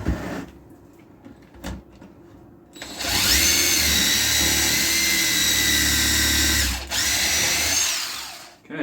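A power drill countersinks screw holes in a wooden box, running in one steady, loud whine for about four seconds after a few faint bumps and handling knocks, then winding down and briefly restarting.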